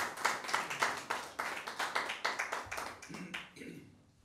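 Sparse, rhythmic hand clapping from a small audience welcoming a poet at an Urdu mushaira, distinct individual claps in a steady beat that thin out and fade near the end.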